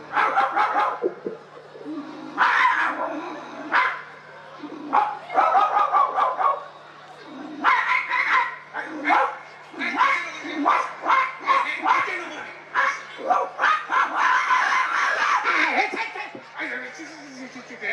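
Several dogs bark and snarl in repeated bursts as they scuffle, close by, with people talking in between, at a Bihu festival event.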